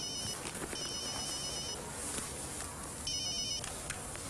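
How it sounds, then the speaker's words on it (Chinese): A mobile phone rings with an incoming call, two bursts of a bright electronic ringtone separated by a pause, fairly faint over a steady noisy background. "一来电话就得响了。"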